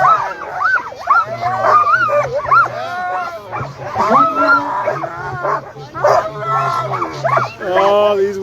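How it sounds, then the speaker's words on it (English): Sled dogs at the start of the 35th Copper Basin 300 race in Alaska, howling, yipping and whining together in a loud chorus close by, with people talking over them. "There's that wheel dog wanting to sing. Yeah, sing it up."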